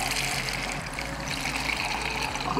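E85 ethanol pours into a cup set on the ground, a steady close trickling and splashing stream that runs continuously with slight gurgles, no voices over it.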